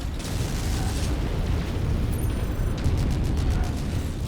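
An explosion as a target is destroyed in the mech combat game Mechwarrior 5: Mercenaries: a loud, sustained low rumble with a brief mechanical chime partway through.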